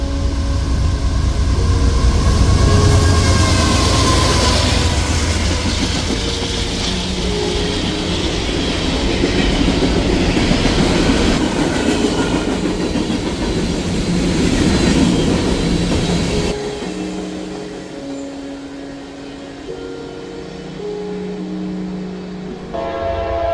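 CSX 213, a westbound freight led by AC44 locomotives, rumbles past loud and close with rolling wheel clatter and a rising squeal, then its roar drops away abruptly to a quieter rolling tail.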